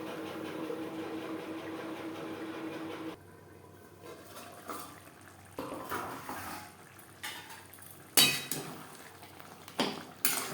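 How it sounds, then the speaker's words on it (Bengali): A metal lid lands on a pot of simmering mutton curry with a sharp clatter, followed by several lighter clinks and knocks of cookware, while the heat underneath gives a soft bubbling hiss. "ঢাকনা চাপা দিয়ে সেদ্ধ করব"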